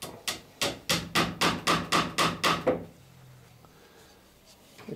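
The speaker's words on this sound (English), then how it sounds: "I may put two small nails there just to encourage it in" Small nails hammered into a clinker boat's lapped wooden plank: about nine quick, evenly spaced, close, loud hammer blows in a steady rhythm, then a quiet pause with faint workshop noise.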